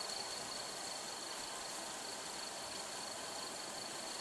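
A cricket sound effect from a free music plugin plays as a steady, faint high chirring over a constant hiss, with no other sounds or voices.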